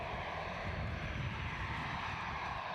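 Embraer 190 jet of KLM at Edinburgh Airport, its engines giving a steady, fairly distant broadband roar with low rumble that holds evenly throughout with no talk.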